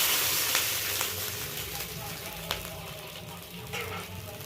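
A small splash of water hits panch phoron spices in a hot pan, making a steady, close sizzle with a few sharper crackles and pops. A mango sweet pickle is being made, and a voice is faintly present under the frying.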